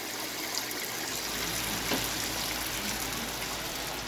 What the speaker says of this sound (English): I'm gonna pour the water out the noodles